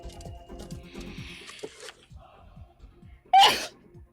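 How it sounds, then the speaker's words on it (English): A single sudden human sneeze, loud and close, bursting out near the end over soft, rhythmic background sounds from a horror video game. "I'm sorry, I had to sneeze."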